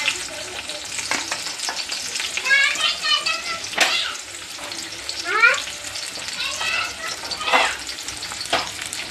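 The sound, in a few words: onion frying in hot oil in a kadhai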